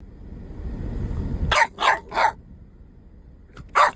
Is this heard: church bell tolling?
no